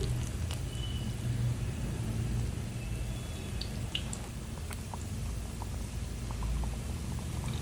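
Urad dal vadas sizzle in hot oil with a steady, close bubbling hiss throughout, dotted by a few faint clinks and crackles.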